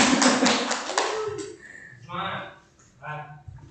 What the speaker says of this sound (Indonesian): Mohon keikhlasannya untuk beri aplaus untuk Pak Wendri.